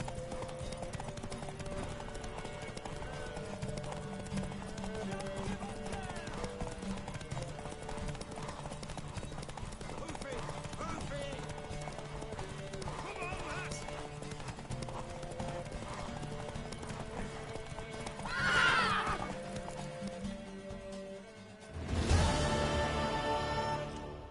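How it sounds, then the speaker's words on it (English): Horse hooves clip-clopping at a steady gallop in The Witcher 3 on PS4, a mare running under a constant musical score, with a brief neigh near the end and a louder burst just after it. "Worthy of the best horse. The mare is yours."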